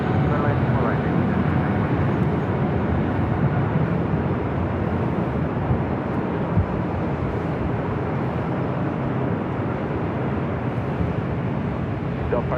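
Boeing 777 freighter rolling for takeoff on runway 25 right at LAX, a steady broad engine roar that stays constant throughout, with voices talking over it.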